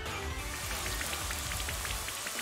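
Steady, dense rain from the Rain Dance move in Pokémon Sword, with a constant patter of drops on a surface that holds at an even level with no voices.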